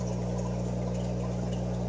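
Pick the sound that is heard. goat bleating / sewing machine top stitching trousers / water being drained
water being drained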